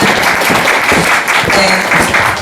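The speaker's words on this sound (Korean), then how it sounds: "박수 부탁드립니다." Audience applause at a humanities concert in Yebit Village, Jecheon, loud and sustained clapping filling the whole stretch with a light background murmur.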